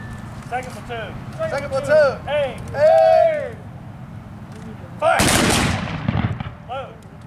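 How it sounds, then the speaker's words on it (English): Civil War-era reenactors at a military history event in Gordonsville, Virginia fire a single loud, sharp musket volley that crashes out all at once and rings briefly, amid close talking before and after. "he's going to watch the first platoon to ensure that they are partially loaded before he goes ahead and fires the second platoon"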